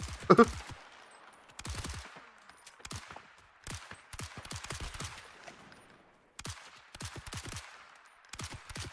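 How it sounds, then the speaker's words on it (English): SMG gunfire in Toxic Commando as a player shoots at zombies: repeated short close bursts of rapid shots separated by quiet gaps. "meanwhile I'm sniping zombies with it"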